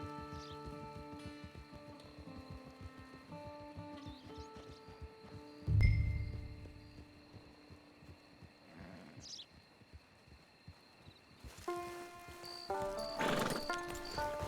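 Hooves clop in a steady rhythm under soft background music in Red Dead Online, with a snort and a brief whinny rising partway through before the music swells.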